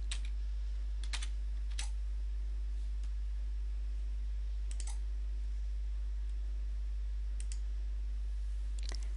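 Keys tapped on a computer keyboard while an IP address is entered, coming in a few scattered short bursts of clicks over a steady low hum and hiss.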